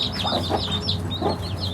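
A hen clucks in short repeated bursts nearby, with high chirping calls, likely from chicks, running steadily over a low background hum.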